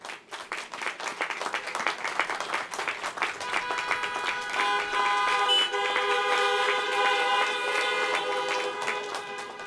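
Car horns honking at a drive-in high school graduation for the class of 2020. Many horns blare together, close and loud. Scattered taps and bursts come first, then they merge into a sustained, layered chorus of toots that fills the clip.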